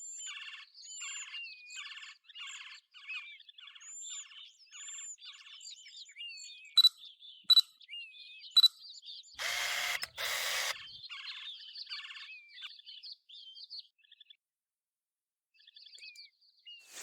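Several songbirds chirp and whistle in Birding Simulator: Bird Photographer, repeated bright trilling phrases in quick succession, a few sharp camera-like clicks and a short burst of noise midway, then quiet before the calls resume.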